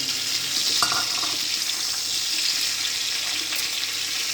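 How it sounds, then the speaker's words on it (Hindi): Washed, cut potatoes fry in a hot pan for an aloo gobhi tamatar sabji, giving a loud, steady hiss and crackle with a few sharper spits and no talk. "इसमें जो आलू काट कर रखा है, आलू ये धोया हुआ इसको डाल देंगे"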